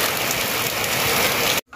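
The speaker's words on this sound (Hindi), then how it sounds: "अभी बारिश होने लगी।" Steady rain pours down over a sugarcane field as a dense, even hiss, loud and close, then cuts off abruptly near the end.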